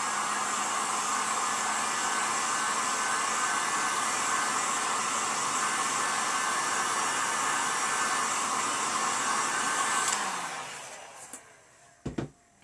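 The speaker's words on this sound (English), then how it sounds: "we can go ahead and heat gun that on there" A heat gun blasts hot air onto a chalk canvas, a steady roaring fan whoosh that runs unchanged for about ten seconds before shutting off, followed by a few faint clicks and handling knocks.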